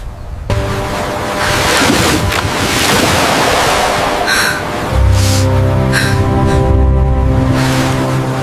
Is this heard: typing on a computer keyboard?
no